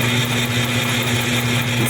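A sewing machine runs steadily as it stitches quilt fabric along a ruler, a continuous close mechanical whir with a fine rapid needle rhythm and no pauses.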